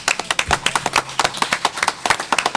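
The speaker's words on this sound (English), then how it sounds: "Let's give them a round of applause." Audience applause for the musicians at a live event, a steady patter of many hands clapping at close range, continuing alone for a few seconds.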